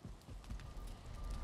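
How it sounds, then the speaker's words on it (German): Crackling campfire in the video game Valheim, burning beside a trader's spot, a steady soft crackle with scattered light pops, fairly faint and continuous throughout with no voices. "Beim Haldor ist ja immer ein schönes Lagerfeuer an."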